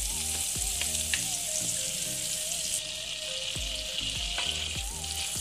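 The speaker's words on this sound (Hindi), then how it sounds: "अब मैं इसी पैन में बटर डाल रही हूँ।" Butter melts and sizzles in a pan for white pasta, a steady bright fry hiss running throughout with a few soft clinks and scrapes of a utensil against the pan.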